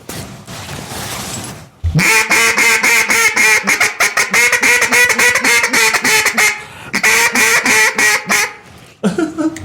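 A high school student blows a duck call, giving a rapid, loud run of nasal quacks imitating a duck, with a short pause mid-sequence and a final burst after a brief opening of breathy noise.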